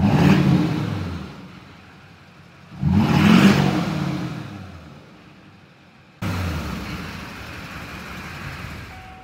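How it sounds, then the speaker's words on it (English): An LB7 Duramax diesel pickup, a 2001–2004 truck, revs hard in a series of throttle snaps: three separate surges that swell and fade back toward idle, heard close up with no talking. "I'm going to do a quick throttle snap test."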